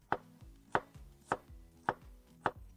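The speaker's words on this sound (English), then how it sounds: "I'll cut the onions into rings." A knife slices onions into rings on a cutting board, five crisp, evenly spaced chops about half a second apart, each a sharp close knock with a short thud, alone in a quiet room.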